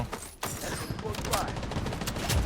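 Fast automatic gunfire in the game Blood Strike, heard as a dense, continuous rattle of shots that runs nearly the whole clip, with a brief gap early on.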